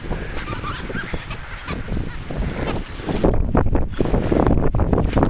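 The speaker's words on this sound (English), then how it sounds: "Freaking birds are nuts." Geese or other waterfowl honking and squawking by the water, several calls over heavy wind buffeting the microphone, growing louder and rougher toward the end.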